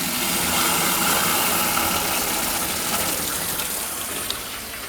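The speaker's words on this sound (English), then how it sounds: "I'm gonna go turn on the tap water." Tap water gushing through a bucket-free aquarium water changer, a steady loud rushing flow with a constant hiss that continues evenly and eases slightly toward the end.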